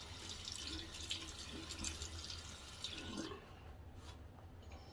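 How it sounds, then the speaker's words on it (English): Water runs and trickles faintly while shaving soap is lathered, a soft steady wash of sound that thins out near the end, with no talk. "So I can add a little bit more water for sure."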